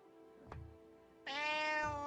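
Cats meow in the video game Vintage Story: a brief faint chirp, then a long, loud, drawn-out meow close by, with no talk over it.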